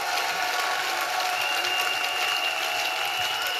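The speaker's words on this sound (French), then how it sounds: "Oui, acclamez plus fort. Yes, clap louder." A church congregation applauding during a sermon, steady dense clapping from many hands filling the room at an even level throughout, with no voices standing out.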